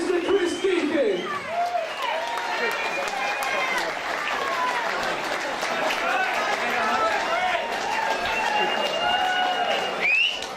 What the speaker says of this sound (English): let's have a massive round of applause for his opponent, Mr. Chris Deakin